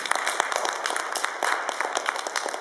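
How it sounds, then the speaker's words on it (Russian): Audience applause fills a Victory Day concert hall in Moscow: dense, steady clapping from many hands, sustained and even throughout with no voices over it. "Ваши аплодисменты."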